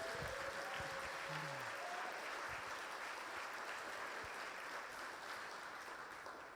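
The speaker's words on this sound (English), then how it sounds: "Give yourselves a round of applause." Nominees, families and friends at a Senior of the Year awards event give a steady, dense round of applause, heard from a distance and tapering slightly toward the end.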